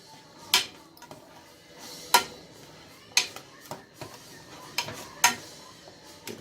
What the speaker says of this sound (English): You gotta stir it